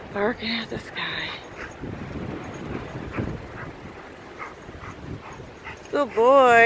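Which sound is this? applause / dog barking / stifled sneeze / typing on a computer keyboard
dog barking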